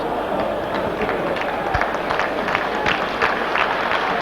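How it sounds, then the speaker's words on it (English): A football stadium crowd gives broad, steady applause at a 1988/89 European Cup semi-final between AC Milan and Real Madrid as Gullit is substituted, a continuous wash of distant clapping with a few sharper claps poking through. "Sympathetic applause then for Gullit"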